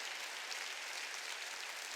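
A church congregation applauds during a Wednesday worship service, a faint, steady wash of clapping that sounds distant and even throughout, with no voices standing out.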